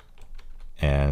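Someone types an SQL query on a computer keyboard, a short burst of a few quick keystrokes up close, then a sudden loud hum cuts in and covers the end.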